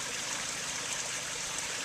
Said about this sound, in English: Sir, can you throw a rock in the pond for us?